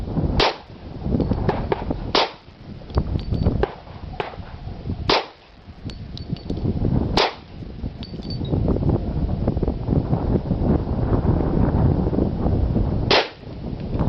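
Grand Power 10mm pistol (GPP4010MD) fired outdoors in gusty wind, with several sharp, loud reports spaced a few seconds apart over constant wind buffeting.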